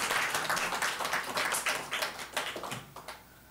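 A church congregation at a Korean Sunday worship service claps in blessing, a lively crowd of hands with uneven bursts that taper off toward the end, fairly soft and close, with no speech over it.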